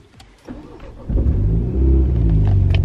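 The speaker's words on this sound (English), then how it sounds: "The 2 litre BMW engine that we have now is just a lot nicer sounding." Two-litre BMW engine in a John Cooper Works car cranking briefly and firing up, then settling into a deep, close rumbling idle.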